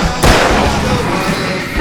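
Fireworks explode in the video game Alan Wake: one loud, sharp boom near the start, followed by a continuous rumbling crackle throughout.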